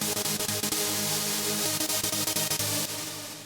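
Trance chords built in FL Studio, a dense sustained synth stack pulsing in rapid sidechained dips, loud and close, slowly thinning in the final second, with no voice.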